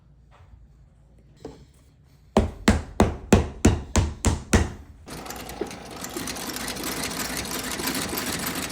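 A stitching machine sews a Vibram 700 sole onto a boot during a resole, first with a run of about eight loud, evenly spaced mechanical thumps up close, then a steady whirring hum.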